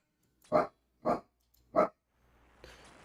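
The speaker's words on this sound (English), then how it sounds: "There's nobody to bark at." A pet dog barks three times indoors, short loud evenly spaced barks close by, followed by quieter room noise.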